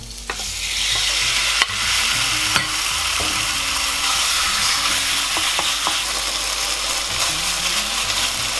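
Pork stir-fried in a hot pan gives a loud, continuous sizzle, broken by occasional sharp clicks and scrapes of a utensil against the metal. No voices are heard.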